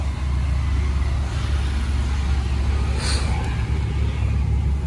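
A Kawasaki KLX supermoto bored up with a 62mm piston idles steadily through a Norifumi Whoops competition exhaust, a loud continuous low rumble close by.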